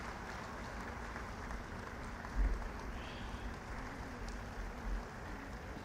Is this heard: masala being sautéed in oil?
no